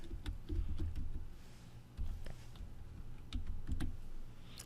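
Typing on a computer keyboard, with faint, scattered key clicks in short clusters over a low background hum.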